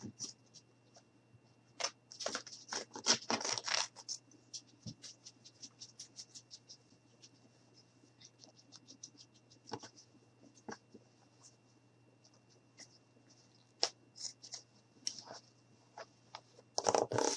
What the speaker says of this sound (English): So all I'm going to do is just cut off a little strip.